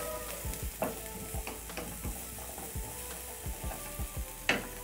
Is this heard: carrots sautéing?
yes